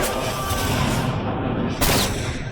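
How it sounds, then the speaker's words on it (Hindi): A gunshot rings out in a Hindi-dubbed South Indian action film, amid a dense, loud wash of mixed soundtrack, with a sharper burst near the end. "कमिश्नर को क्रिमिनल नागेश्वर ने गोली मारी।"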